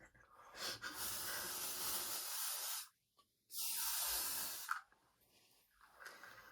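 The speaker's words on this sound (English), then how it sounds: "Spray me with it." Two long hissing bursts from an aerosol can, separated by a brief pause, are followed by a couple of softer puffs, all fairly quiet and close, with no speech.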